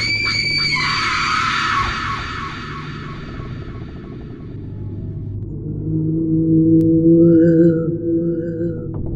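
A vanishing witch in a horror story lets out a terrifying, high, shrill scream that fades over a couple of seconds. A deep rumbling drone carries on underneath and swells, with eerie tonal wails rising near the end.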